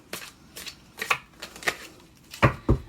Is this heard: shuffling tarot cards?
yes